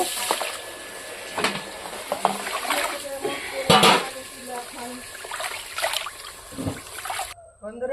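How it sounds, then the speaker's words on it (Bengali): Raw mutton being washed in water in a home kitchen, with splashing, trickling and clattering of a pot or bowl throughout, close and moderately loud, with a sharp clank near the middle. "এখন মাংসটা আমি ধুয়ে দিব"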